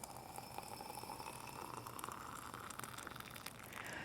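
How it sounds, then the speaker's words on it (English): Water boils with a faint, continuous bubbling and hiss, steady throughout and heard from close by. "Okay, boiling water."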